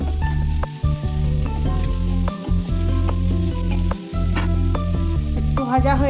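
Ginger, turmeric, grated beetroot and carrot fry in a pan with a steady, loud sizzle, broken by brief scraping stirs and a few short clinks of the spoon against the pan.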